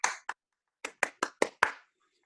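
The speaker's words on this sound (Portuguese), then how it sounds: "Salva de palmas para o nosso parceiro Pipe" A few people clap for a guest named Pipe on a Portuguese-language comedy show: two quick claps, a pause, then five separate claps in a steady rhythm, close and sparse rather than a full crowd.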